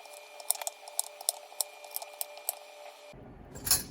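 A knife chops carrots into 2-inch pieces on a cutting board, a series of crisp, sharp cuts in an uneven rhythm, close and fairly quiet, followed by a brief clatter.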